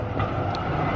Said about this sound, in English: hang on, tram.